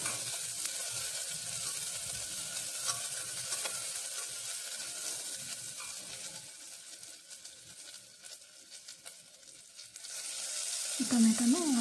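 Carrots, potatoes and green chillies frying in a pan for palak pulao: a continuous soft hiss of sizzling with faint stirring, and a voice briefly at the end.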